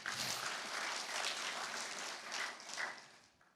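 Congregation clapping during a church worship service, a dense, steady wash of applause filling the room that fades slightly toward the end.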